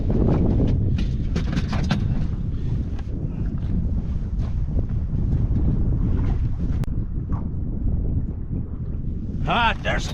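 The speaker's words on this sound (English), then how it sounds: "That wind's giving us a fit." Wind blowing outdoors while fishing over deep structure, a loud, continuous roar buffeting the microphone for about ten seconds, with a brief squeaky higher sound near the end.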